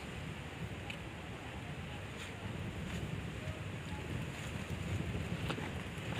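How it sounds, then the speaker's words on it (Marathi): Gusty outdoor wind buffets the microphone in open country, a steady broadband rumble that swells and eases over the whole stretch without any other clear sound. "वाऱ्या थांब रे जरा."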